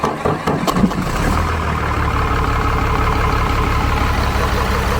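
A 12-valve common rail Cummins diesel engine cranks briefly and catches, then settles into a loud, steady, close-up idle with an even low rumble.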